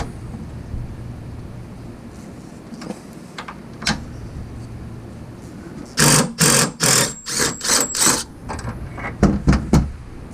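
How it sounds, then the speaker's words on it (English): A Torx T55 bit breaks a bolt loose on a Toyota Tacoma bed, with a few scattered clicks followed by a close burst of rapid, loud impact-driver hammering in short pulses. "Use a Torx T55 bit and loosen this."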